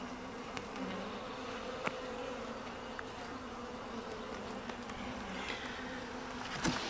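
Carniolan honeybees buzz in a steady, dense hum around an opened backyard hive during an inspection. Faint clicks and small knocks sound close by throughout.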